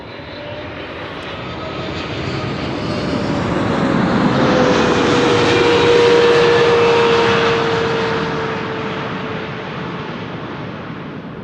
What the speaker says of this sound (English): this is the first triple China Southern cargo arriving from Shanghai in China